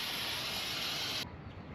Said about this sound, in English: Time for the caliper. All right, one last spray.